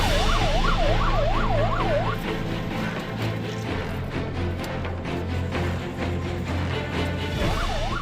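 A hi-tech ambulance carrying life-support equipment and oxygen cylinders races along the roads of Musabani, its wailing siren rising and falling at the start and again near the end over a steady engine and traffic rumble.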